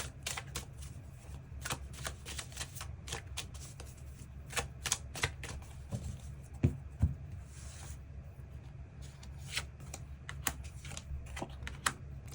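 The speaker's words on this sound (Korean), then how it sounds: "추가 카드 뽑아보도록 하겠습니다" Tarot cards shuffled and drawn by hand at close range, a quiet series of soft riffling flicks and sharp card snaps scattered irregularly throughout, no talking.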